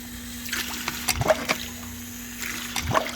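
Water gushing and splashing as a newly drilled shallow well for a hand pump is flushed, a steady watery rush with irregular splashes and a faint constant hum underneath.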